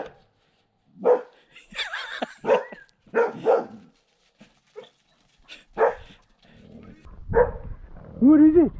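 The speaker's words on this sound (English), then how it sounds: "I believe a black dog is with him." A black dog barks in short yips and whimpers somewhere on a back-country track in the Kaimanawa ranges, the calls coming in bursts between gaps, with a voice talking over parts of it.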